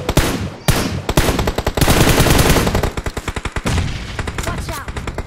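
Gunfire from the PUBG video game on the Sanhok map comes as loud, rapid automatic bursts and quick single shots, close and almost continuous, with sharp rhythmic cracks packed tightly together. No one talks.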